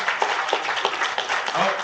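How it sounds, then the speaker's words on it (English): A short burst of applause from a small group, the clapping mixed with voices talking over it. "Yeah, round of applause."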